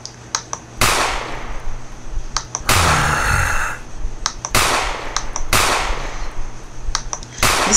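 Gunshots from a weapon fired at zombies in a SpongeBob-themed Krusty Krab zombie game, five loud sharp blasts spaced about a second apart, with one longer, noisier burst among them and light clicks between.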